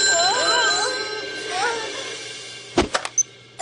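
A telephone rings in a French-dubbed Totally Spies! cartoon: several short bright electronic trills come in quick succession near the end, after a stretch of speech-like cartoon voices and background music.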